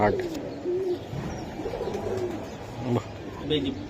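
Racing pigeons cooing nearby, several soft rolling coos repeating through the moment with a little background chatter and noise.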